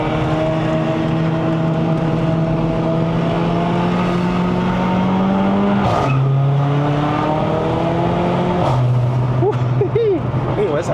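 A Mercedes-AMG CLA45 (C117, Stage 2 tune) climbs a mountain road toward Genting in Malaysia, its engine droning loud and steady, pitch rising through each gear then dropping at two shifts.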